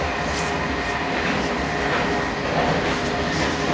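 Heard from inside a Dutch train running toward Utrecht, a loud, constant rumble of wheels on the rails with a faint rhythmic clatter and no talking.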